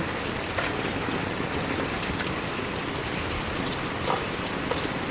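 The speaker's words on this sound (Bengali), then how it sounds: "দেখো অনেক বৃষ্টি হচ্ছে" Heavy rain falls steadily near an airport, a loud, dense wash of drops on surfaces with a few sharper splashes, unbroken and without speech.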